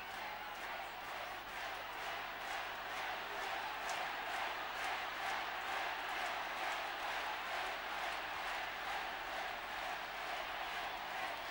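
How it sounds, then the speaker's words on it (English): Spectators at the 1973 Munster hurling final between Limerick and Tipperary in Thurles roar as a continuous, distant-sounding crowd wash, rising slightly in the middle, with a low broadcast hum throughout. "listen to the crowd now"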